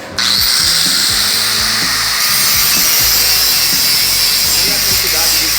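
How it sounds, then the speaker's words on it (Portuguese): Angle grinder whining loudly and continuously as it grinds away excess weld metal, starting abruptly after a moment of quiet, with a rough abrasive edge throughout. "Agora ele vai estar lixando aqui um pouquinho, esmerilhando um pouco o excesso de soldagem"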